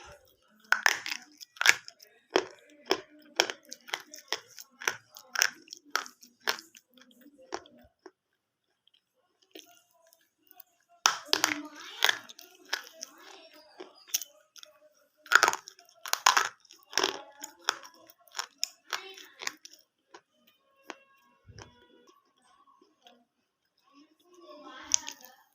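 Close, crisp crunching and biting of a layered snack that flakes apart, in repeated rapid bursts with brief pauses and a few quieter stretches.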